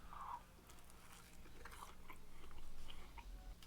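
Crunchy classic donut dipped in coffee bitten into once up close, a short crisp crunch followed by soft chewing, with no talking.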